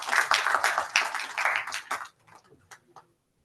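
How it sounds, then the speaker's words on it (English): Audience applause for a speaker at an international conference on diversity, equity, inclusion and belonging, dense clapping for about two seconds before thinning into a few scattered claps and fading out. "Give a huge applause to him,"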